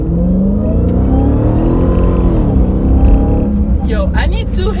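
A 2023 Dodge Charger Hellcat Widebody engine pulls steadily and loudly under load, rising in pitch as it accelerates, with a sharper roar near the end; a voice talks briefly over it.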